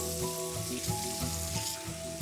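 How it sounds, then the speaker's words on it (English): Water runs from a kitchen tap as hands are washed while a spatchcocked turkey is being prepared, a steady hissing splash with faint tonal ringing underneath and no one speaking. "All right, let's wash the hands."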